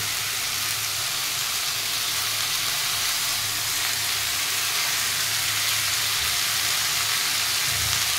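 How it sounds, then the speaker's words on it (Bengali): Mixed vegetables frying lightly in a pan for a home-style dish, giving a steady, dense sizzle and hiss that runs unbroken and fairly close throughout, with no voices. "সবজিটা আমি অল্প ভেজে নিলাম। সব সবজিটা একটু ভাজা হয়ে গেছে।"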